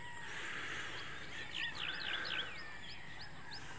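Several birds chirp and trill in a rural province setting, a run of quick rising calls standing out clearly over a constant wash of insect buzz and outdoor ambience.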